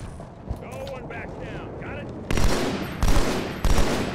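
Gunfire in Halo 2 Anniversary: three loud, sharp sniper-rifle-style cracks in the second half, each with a ringing tail. Before them, a voice speaks amid game background noise.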